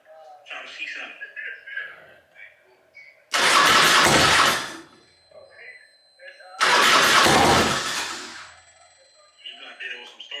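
A Harley-Davidson Road King motorcycle engine being cranked and started twice, each a loud, rough burst of one to two seconds, with people talking quietly before, between and after the attempts.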